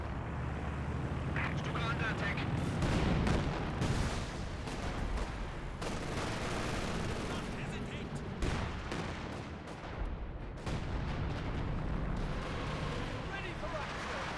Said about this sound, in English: So you now have a British barrage running on in.